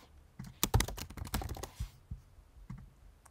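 Computer keys clack in quick uneven bursts as an email and password are typed into a sign-up form, crisp close taps clustered early, then a few scattered presses.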